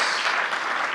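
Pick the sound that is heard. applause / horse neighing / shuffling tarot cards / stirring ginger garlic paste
applause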